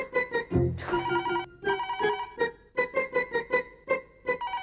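An electronic telephone ringtone rings loudly in a rapid, repeating melodic pattern of bright tones, with no voices over it.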